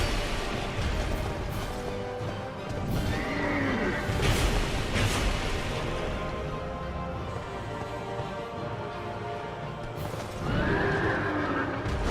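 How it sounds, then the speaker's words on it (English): A giant two-headed skeleton horse pulling a chariot in a Dark Souls 2 boss fight neighs loudly several times over a rumbling, crashing battle din with hoofbeats. "Giant two-headed skeleton horse."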